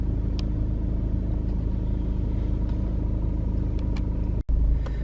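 A car drives through a few short city streets, its engine rumbling low and steady up close along with road noise and a little clatter, with a brief cut near the end.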